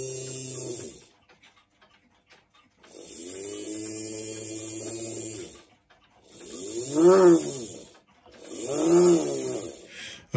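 Rewound Tri-ang X410 model railway motor armature spinning up in short bursts, a buzzing hum that rises and falls in pitch with the power control, four runs separated by silent pauses.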